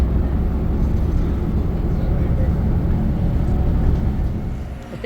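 Engine rumble inside a rural Japanese bus after boarding at Magome, a steady low hum and road noise throughout that eases slightly near the end.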